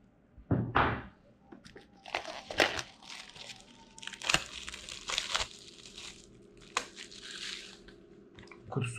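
Packaging for a Logitech G502 X mouse is cut open, giving faint, close crinkling and rustling of cardboard and plastic with scattered soft thuds and tearing bursts.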